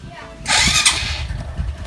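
A Honda XRM 125 motorcycle's electric starter cranks the engine, a brief loud whirring burst up close that settles into a rougher running engine sound.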